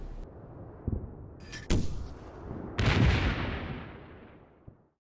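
Mortar rounds land off target in Combat Mission, a few booming impacts at close range, the last a heavy blast that rumbles and slowly fades out.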